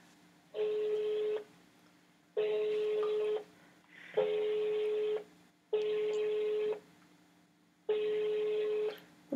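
A telephone rings out on a prank call with five evenly spaced ringback tones, each a steady buzzing burst of about a second followed by a pause, fairly quiet with no talking.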